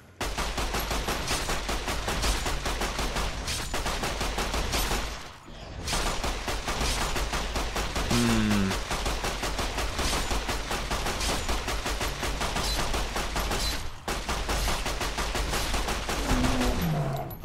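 Rapid volleys of pistol fire from the A Light Shining in Darkness handgun loaded with hollow point rounds in Fallout: New Vegas, loud sustained bursts of shots with two brief pauses between strings and no talking.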